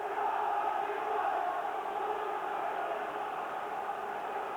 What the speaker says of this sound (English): Just listen to this crowd now.